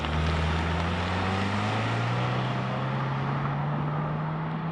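A 2024 Subaru Crosstrek's CVT whining under acceleration, a steady rising drone over road and engine noise heard from inside the cabin, with no talking.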